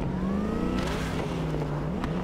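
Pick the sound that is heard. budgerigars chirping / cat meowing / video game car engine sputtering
video game car engine sputtering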